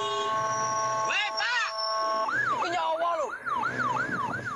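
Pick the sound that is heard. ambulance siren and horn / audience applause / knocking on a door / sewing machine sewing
ambulance siren and horn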